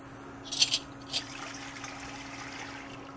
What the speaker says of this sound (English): We're going to put a quart of vinegar.